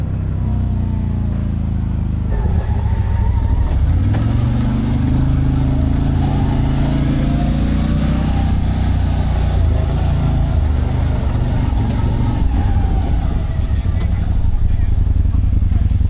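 A 2024 CFMOTO ZForce 800 Trail side-by-side drives along with a loud, steady engine drone and rattling chassis noise up close, rising and falling slightly as it accelerates, while people talk over it.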